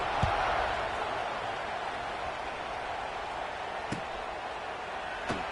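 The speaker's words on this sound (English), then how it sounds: "this crowd is buzzing after that last score" A football stadium crowd after a score keeps up a steady, distant roar, a broad wash of buzzing voices with a couple of faint thumps rising above it.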